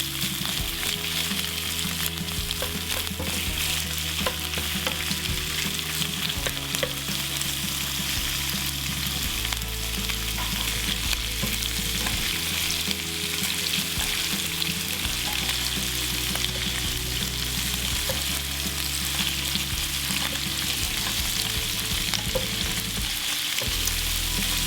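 Prawns sizzle with garlic in a hot wok for a Chinese-style dish, a steady, close, crackling fry that holds at an even level throughout, with a few stirring scrapes and no voices.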